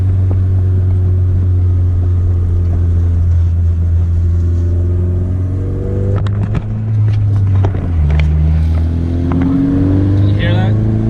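A Honda Civic FK7 engine running after a transmission repair, a deep steady rumble whose pitch rises and falls as it revs, loud and close.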